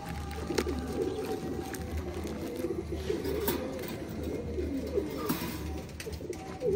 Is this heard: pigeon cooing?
yes